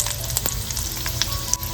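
Garlic sizzles in hot oil in a wok as tempering begins, a steady close frying hiss dotted with small pops and light clicks.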